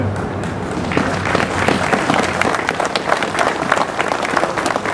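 A crowd applauds steadily and loudly, dense clapping sustained throughout without a break.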